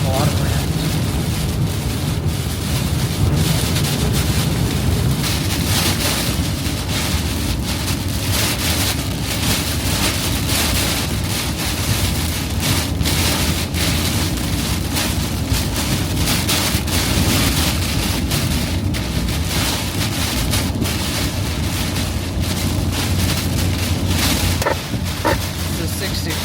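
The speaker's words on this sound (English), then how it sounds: "Not much rain, a lot of wind." Strong Hurricane Beryl winds roaring over a truck atop the Galveston Causeway, a continuous heavy buffeting rush with wind noise battering the microphone, road and engine rumble underneath.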